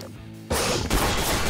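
A sudden, loud burst of gunfire in Garry's Mod erupts after a brief quiet moment, dense and crackling, with a second sharp blast following close behind.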